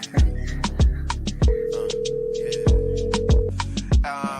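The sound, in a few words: telephone ringing before voicemail greeting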